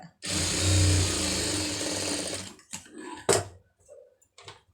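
A sewing machine stitches a quarter-inch seam in one continuous whirring run of about two seconds, followed by a few short clicks and handling knocks, fairly quiet overall.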